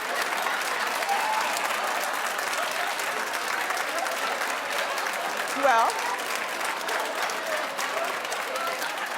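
A studio audience on a talk show claps in a steady, roomy wave of applause, with a brief spoken word and a short louder burst partway through.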